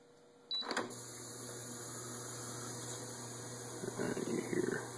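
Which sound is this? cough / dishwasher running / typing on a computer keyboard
dishwasher running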